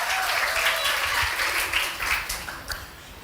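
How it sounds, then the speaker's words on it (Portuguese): A congregation at a Christmas church service breaks into sustained applause. The clapping is a broad, even roar that fades slightly toward the end, with a few sharper individual claps standing out near the close. "Dê uma salva de palmas para ela"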